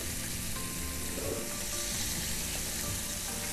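Food sizzling and frying in a pan with salt and pepper, a close, steady crackle and hiss running continuously with faint stirring sounds.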